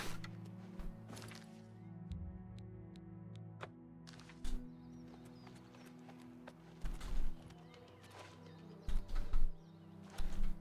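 Horse hooves in the video game Oblivion Remastered, with scattered clip-clop steps and soft thuds over a low ambient hum, plus louder irregular knocks near the end.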